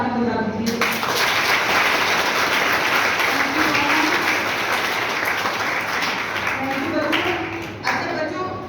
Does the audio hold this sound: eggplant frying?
no